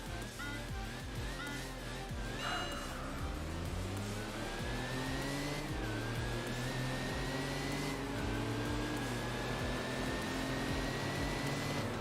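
Race car engine in the Enthusia Professional Racing video game, revving steadily with rising and shifting pitch, loud and continuous throughout with no talk.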